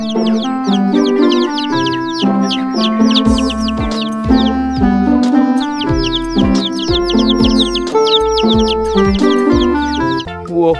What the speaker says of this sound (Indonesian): Ternyata ada si ayam Rembo